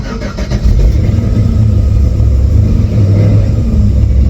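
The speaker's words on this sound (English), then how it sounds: "This motor does got a little piston flap when you first start it" An LS 6.0 V8 in a truck fires up and revs, a loud, close, steady rumble with some piston slap noted on cold start, with no voices over it.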